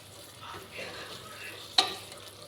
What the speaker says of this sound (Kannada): ಮೊಸರನ್ನ ಹಾಕಿದ್ಮೇಲೆ ಚೆನ್ನಾಗಿ ಫ್ರೈ ಮಾಡ್ಕೊಬೇಕು, ಚೆನ್ನಾಗಿ ಸುತ್ತಿ ತಿರುಗಿಸ್ಕೊಬೇಕು.